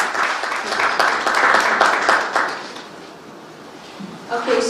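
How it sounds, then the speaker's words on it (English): An audience at a Franco-Anglo exchange program event applauds for a CEO speaker, a steady wash of many hands clapping that fades after a few seconds, with voices mixed in. "A round of applause for Mr."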